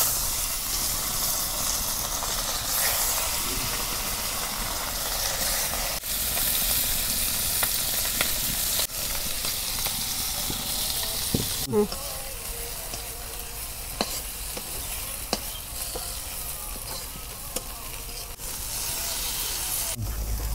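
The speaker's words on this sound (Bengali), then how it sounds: "মাছ ভাজা হচ্ছে" Spice-coated bata fish frying in a hot kadai, with a continuous close sizzle and hiss of oil that carries on steadily throughout.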